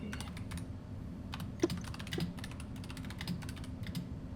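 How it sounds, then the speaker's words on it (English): Quick, irregular keystrokes tap on a computer keyboard at close range, soft and continuous with a few louder clicks, over a faint room hum. "The typing of the DM."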